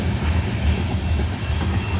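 A loaded CSX coal train rolls past at Mt Airy Junction, its loud continuous low rumble and rhythmic clatter of cars close by, with no voices.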